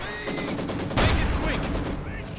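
Company of Heroes 2 battle audio with rapid mortar and gunfire, a dense, continuous crackle of shots under a voice speaking throughout.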